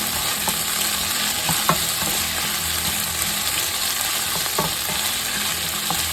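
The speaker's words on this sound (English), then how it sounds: "Put to medium heat, medium high. start sauteing" Onions sauté over medium-high heat in a pan with a steady, dense sizzle, while a utensil stirs and scrapes now and then, close up with no speech.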